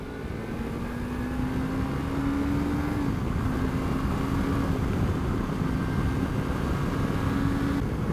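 Suzuki V-Strom 250 motorcycle accelerating from 30 to 60, a steady engine drone whose pitch climbs, drops briefly at a gear change around three seconds, then rises again, with loud wind rush throughout and no talk.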